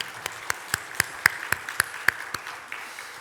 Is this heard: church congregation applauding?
yes